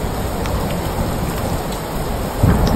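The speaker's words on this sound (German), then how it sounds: "Wir brauchen mehr Regen." Heavy rain pours steadily during a thunderstorm in Netphen, a dense continuous hiss of drops on surfaces with a low rumble swelling near the end.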